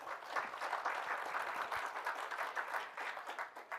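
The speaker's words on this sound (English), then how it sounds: "So a huge round of applause for our sponsors," An audience at an opening ceremony of a global hackathon event gives a sustained round of applause for the sponsors, a dense, even wash of many hands clapping with no speech over it.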